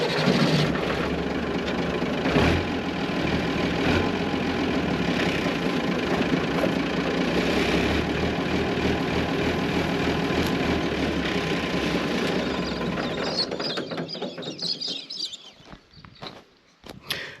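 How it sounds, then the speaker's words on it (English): A farm tractor engine runs at a steady idle with low rumbling throughout while its hydraulics lift a seeder bar, then the engine cuts off near the end and the sound fades out. "I'm just going to start the hydraulics, start the tractor"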